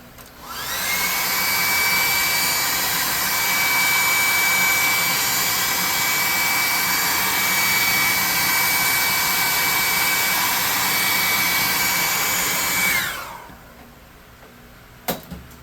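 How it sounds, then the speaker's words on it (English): A hair dryer blows steadily on a freshly painted bugbear miniature for about thirteen seconds, loud and close with a whining tone, then switches off, leaving near silence and a faint tap. "We gotta hit that with a hair dryer"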